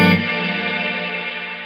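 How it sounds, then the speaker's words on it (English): A distorted electric guitar chord played through a Strymon Big Sky reverb pedal set to a long reverb, with a Mesa amplifier, hangs in a dense, washy sustain that fades only slightly, with no voices. "That's a long reverb."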